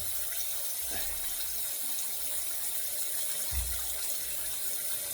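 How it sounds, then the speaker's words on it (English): Steady rush of running water from a tap rinsing after a wet shave, continuous and moderately loud with a few low thumps and knocks mixed in. "we will rinse."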